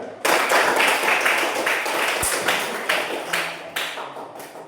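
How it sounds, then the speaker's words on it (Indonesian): A classroom group claps for a student, a short, near burst of ragged hand claps that thins out into a few scattered claps. "Tepuk tangan untuk dia."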